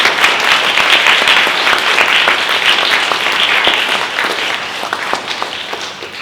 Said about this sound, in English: So please, let's give them a really big round of applause.